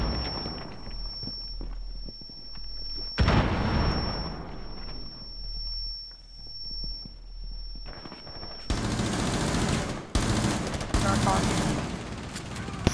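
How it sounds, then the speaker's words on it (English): Gunfire in Rainbow Six Siege, bursts of automatic shots and single cracks that grow denser and louder toward the end, mixed with game noise and a player talking. "I shot Ash in the face and she's still alive"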